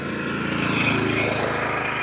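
A motor vehicle that had broken down on the road runs with a steady, loud engine drone close by. The even rumble and hum continue without a break, and no one speaks.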